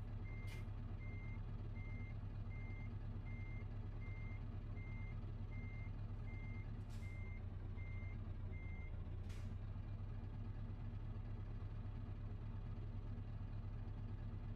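Truck reversing alarm in Euro Truck Simulator 2, a faint regular beeping repeating for several seconds over a constant low engine rumble, with a few sharp clicks and a brief air-brake-like hiss.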